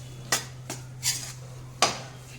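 A utensil scrapes and stirs laddu mixture roasting in ghee in a pan on a low flame, giving four separate scraping strokes at an unhurried pace, fairly close and alone.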